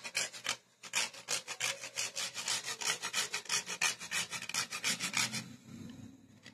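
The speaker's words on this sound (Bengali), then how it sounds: "হাফ জায়ফল নিয়েছি, গ্রেট করে দিয়ে দেব।" Half a nutmeg is rubbed against a grater in a home kitchen while chicken pizza is being made, giving a close, steady run of quick dry rasping strokes that stop near the end.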